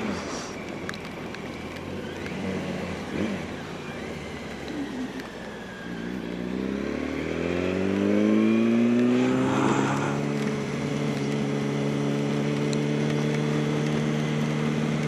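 Engine revving high on a wet road in the rain, pitch rising sharply after a lull and holding a loud, strained tone with layered harmonics, over a background hiss of road and spray.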